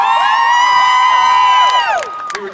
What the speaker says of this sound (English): It looks like you've got a cheering section over there.